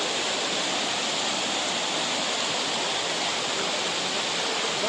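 Steady, loud rushing of the Budhi Gandaki river, a continuous broadband roar with no voices.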